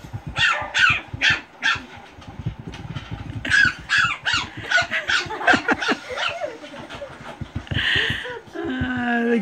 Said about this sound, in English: Listen to them barking.